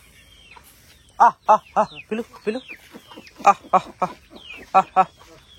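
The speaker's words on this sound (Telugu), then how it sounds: "పెద్ద కోళ్ళు రావాలి, పెద్ద కోళ్ళు రాందాకు." Large village chickens clucking up close in a series of short, clipped calls that come in bursts, mixed with a person's voice talking nearby.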